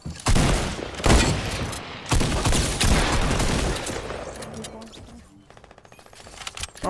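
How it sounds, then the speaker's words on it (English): Bursts of rapid gunfire in the Fortnite video game, several loud close volleys in the first few seconds that thin out into quieter scattered shots and clicking. "I'm getting shot at by someone"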